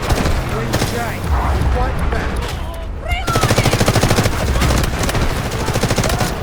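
An automatic weapon in the Delta Force video game is emptied in long, rapid bursts, loud and close, with a brief lull before a final sustained string of shots; voices and battlefield noise run underneath.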